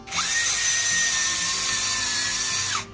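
A HUKAN 16.8V cordless mini screwdriver drill bores into metal: a loud, close, steady motor whine that spins up quickly, holds a constant pitch for about two and a half seconds, then winds down; no one speaks.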